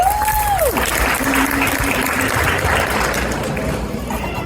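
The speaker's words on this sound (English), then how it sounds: "big claps for him" A crowd at an interfaith iftar gathering claps loudly and continuously for a speaker, a full, sustained round of applause with a brief tonal hum near the start.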